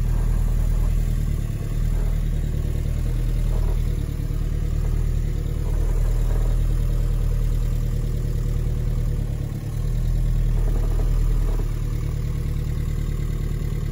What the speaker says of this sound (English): Reverse. Oh, take the handbrake off. We're moving.